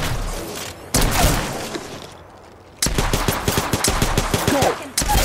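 Peacekeeper shotgun in Apex Legends fires in loud, sharp blasts amid a dense run of rapid gunfire, the shooting cut by a brief quieter gap before resuming in quick bursts.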